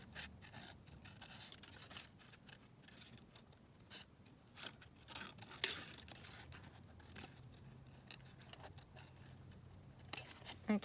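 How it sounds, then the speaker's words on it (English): Paper being kiss cut with a cutting tool on a desk, a long run of soft close snips, scrapes and rustles in an uneven rhythm with a few sharper clicks. "I think that's what's known as kiss cutting."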